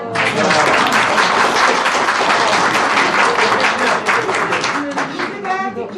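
A small group claps in close, brisk, steady applause during a Cappadocia culture tour, loud and continuous, then thinning near the end as a voice speaks over it.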